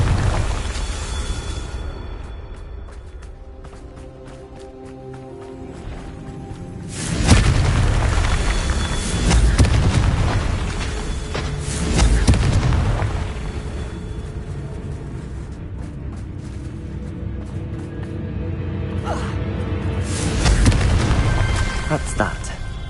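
Confringo fire spell explosions in a magic-themed video game, heavy booming blasts recurring several times over a loud, continuous rumbling backdrop with game sounds throughout.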